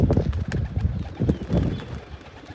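A male pigeon bursts into flight from a loft of young flying pigeons, with loud, close, rhythmic wing claps and flapping in quick pulses, and soft cooing around it.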